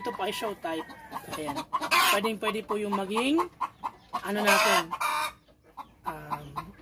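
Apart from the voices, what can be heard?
backyard free-range chickens clucking, including Rhode Island Reds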